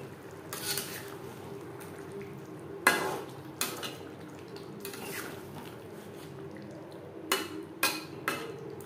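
A spoon scrapes and clinks against a pot while garam masala powder is stirred into a gravy of mutton fat, mutton liver and potatoes, with sharp metallic knocks spaced over a low, quiet simmer.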